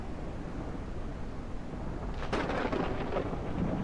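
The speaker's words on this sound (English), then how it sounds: "You can hear the raindrops on top of the roof." Rain patters on a roof as a weather effect in iDentity, a soft steady hiss that swells into a heavier, louder rumble partway through, with no talking.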